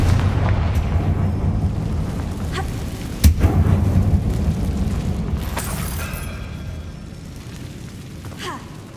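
A Confringo fire spell explodes inside a mine in the Hogwarts Legacy video game: a heavy, rumbling boom that fills the scene, with a sharp crack partway through before the roar slowly fades.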